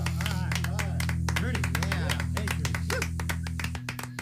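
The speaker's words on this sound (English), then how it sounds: "It sounds like two guys clapping" Two people clap along to a song, sharp hand claps ticking in a steady rhythm over loud music with singing, continuing throughout.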